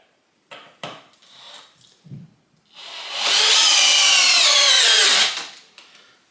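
A Metabo HPT compact drill on high with a 2 amp hour battery drives a 5/16 by 4 inch GRK screw: a few short clicks and bursts, then a loud sustained whirring run of about two seconds that cuts off abruptly.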